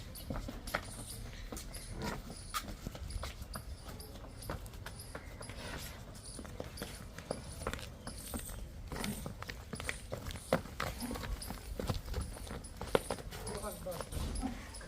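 Dairy buffalo at a farm, a 13-litre milker, being led a short way: dull, irregular hoof steps and shuffles on the ground, close by, under steady people talking.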